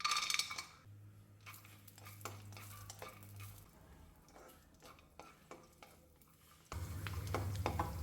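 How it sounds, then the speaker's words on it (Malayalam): Cashew nuts frying in ghee in a pan, with a spoon stirring and scraping in bursts while a steady low sizzle comes and goes; no one speaks. "ഈ അണ്ടിപ്പരിപ്പ് ഒന്ന് വറുത്തെടുക്കാം"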